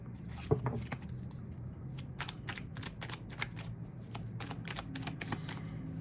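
Tarot cards being shuffled in quick riffling bursts, crisp and close, with a faint hum of city background noise underneath.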